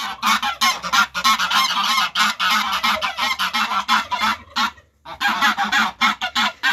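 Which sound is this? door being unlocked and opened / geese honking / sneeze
geese honking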